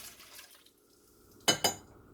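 Activated yeast mixture for glazed donut dough is poured into a pot, a soft liquid pour followed by two sharp, close metallic clanks of the container against the pot.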